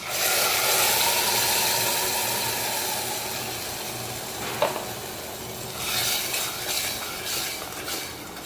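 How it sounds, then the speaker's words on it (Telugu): Spinach paste frying in hot oil with cashews, a steady close sizzle with light stirring and one sharp utensil scrape midway, the sizzle briefly swelling again near the end. "పేస్ట్ బాగా పచ్చివాసన పోయే వరకు మనము వేపుకోవాలండి"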